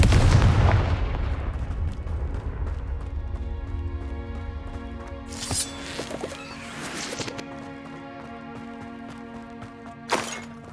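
Confringo blasting spell explosions in Hogwarts Legacy on PS5, with a loud booming blast at the start that fades into a ringing tail, then sharper bursts and cracks scattered through the rest.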